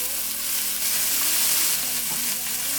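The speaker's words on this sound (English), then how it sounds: "You're going to add all your vegetables in. And your pepper goes in." Vegetables and pepper sizzling loudly in a pot for Jamaican vegan oxtail and butter beans, a dense continuous hiss of hot oil, close and steady throughout with no break.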